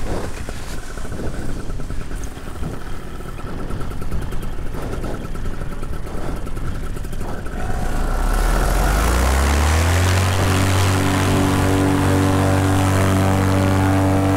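A paramotor engine drives a 15 meter Flare Moustache wing, starting amid rustling and clatter before the motor spins up into a loud, sustained propeller drone with rising harmonic tones.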